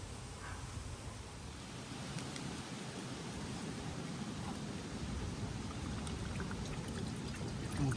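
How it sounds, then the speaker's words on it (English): New brake fluid is poured into a Motive power bleeder during a brake bleed on a Porsche Macan GTS, a faint, steady liquid pour with a soft trickle over quiet background hiss, no talk. "now we could go and fill up the brake motive power bleeder with the new fluid"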